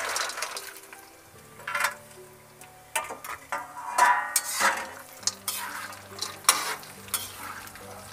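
Dry dates (kharak) fry in oil in a pan with a busy, crackling sizzle. Repeated spoon scrapes and clinks against the pan come at close range and at an uneven rhythm.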